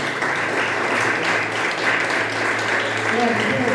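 A church congregation claps loudly and steadily, a dense wash of many hands filling the room, with voices speaking underneath.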